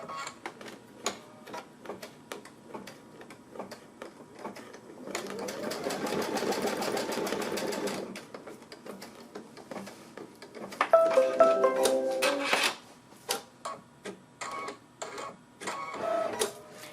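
A sewing machine stitches ribbon onto a quilt block in two short close bursts, with quiet handling clicks and taps between them.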